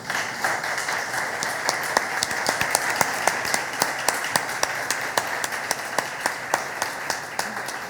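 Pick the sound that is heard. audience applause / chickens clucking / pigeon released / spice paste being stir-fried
audience applause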